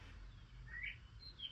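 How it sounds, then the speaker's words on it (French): A faint rock thrush song sounds at a distance, a few thin whistled notes over a low rumbling background. "Donc ça, c'est un merle de roche."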